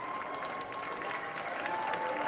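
Applause and cheering rise from a minor-league baseball crowd at a Bowie versus Somerset game as the home side nears a strikeout, a broad, steady wash of clapping and voices at moderate distance.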